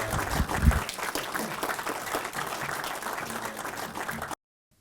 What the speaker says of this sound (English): Can we get a round of applause for the panel?